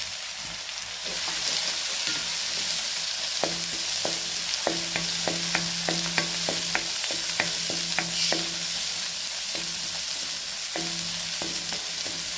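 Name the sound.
tomato sautéing in pan with ginger garlic paste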